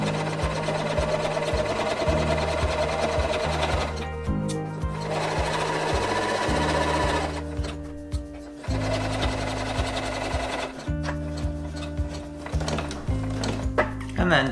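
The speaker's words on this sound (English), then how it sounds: "let's sew the curve 1 centimetre seam allowance" A sewing machine stitches a curved seam with a 1 cm allowance on a baker boy cap, its motor whirring in bursts that pause and restart as the fabric is guided, loud and close.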